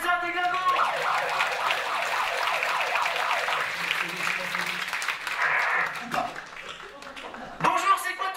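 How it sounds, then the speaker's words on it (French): Applause from a comedy show audience in Saint-Gervais, steady dense clapping mixed with crowd noise and some shouting voices, staying loud throughout with a brief swell near the end. "On applaudit Olivier, c'est un déglingo."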